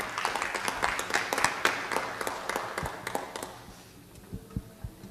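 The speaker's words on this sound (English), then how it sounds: "Another round of applause" A city council meeting crowd gives a modest round of clapping, distinct hand claps scattered and fading after a few seconds, followed by a few isolated thuds in a quieter room.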